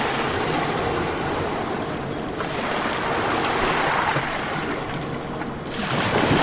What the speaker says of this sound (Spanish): déjate llevar por el ritmo de las olas que vienen